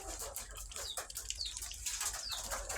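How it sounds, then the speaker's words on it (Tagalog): Pigeons flapping their wings close by in irregular fluttering bursts, with soft bird sounds mixed in. "kalapati natin"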